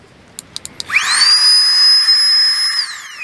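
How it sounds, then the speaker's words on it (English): An electric air mattress pump starts up near the mic after a few faint clicks, its motor whine rising quickly to a loud, steady high-pitched drone that holds, then dips slightly before the end. "Here's what the pump sounds like."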